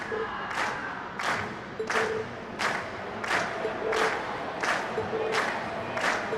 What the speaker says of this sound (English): And we've heard your cheers loud and clear.